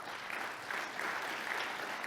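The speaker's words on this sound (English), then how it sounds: "So round of applause to them all." Conference audience applause fills the whole stretch, a steady wash of many hands clapping at moderate volume with no voices over it.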